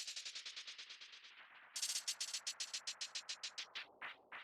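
Granular resampled hi-hat breaks into a rapid train of short, bright, crisp grains, evenly pulsed, pausing briefly midway, then continuing in sharper, louder bursts; quiet overall with no talking.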